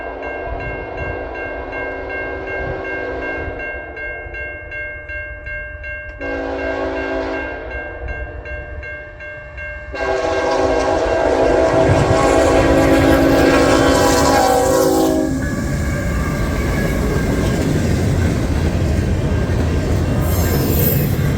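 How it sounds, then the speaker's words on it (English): CN Z120, a daily intermodal freight train, nears a level crossing in Moncton. Loud, sustained chords from the horn build up and then give way to a heavy rumble of passing cars with squealing wheels. "the crossing signals would ignite for CN train 120"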